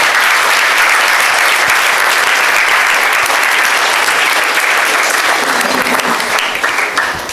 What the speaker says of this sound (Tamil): அவங்களுக்கு ஒரு கைதட்டு கொடுங்க பாருங்க